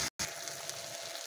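A paste of dried red chilli, coriander and cumin sizzles steadily in a hot pan, a dense broadband hiss that drops out for a brief instant before resuming.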